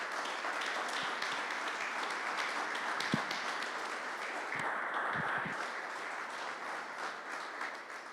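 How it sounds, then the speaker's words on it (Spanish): A church congregation gives a guest speaker a sustained round of applause, a dense wash of many hands clapping at steady loudness, with a few sharper individual claps standing out. "Vamos a recibirlo con un fuerte aplauso."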